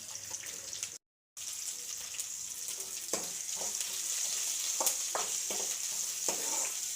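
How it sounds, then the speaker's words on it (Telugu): Green chillies and tomato fry with onions and chicken in a pan, a steady sizzle with scraping stirs and clinks after a short gap of silence, no talking. "పచ్చిమిర్చి వేయించేస్తున్నాం ఇప్పుడు టమాటా వేసినాం కదా"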